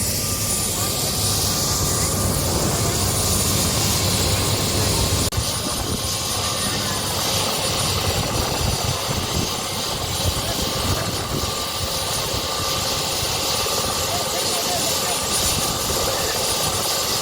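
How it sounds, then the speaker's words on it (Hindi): A loud, steady helicopter engine drones throughout at a helipad with a constant rotor rumble, close by and masking other sounds. "हेलीकॉप्टर सवार हो चुके हैं हनुमान"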